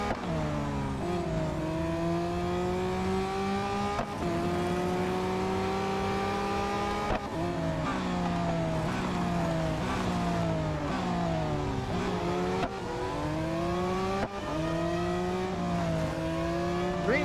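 A Mazda race car engine in the mobile racing game Real Racing 3 revs hard and loud, climbing through gears with repeated rising whines and brief drops at each shift, heard alone without talk.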